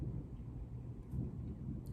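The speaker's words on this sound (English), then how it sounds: "I love thunder" Low, faint rumbling thunder rolls steadily, distant and muffled, with no talking.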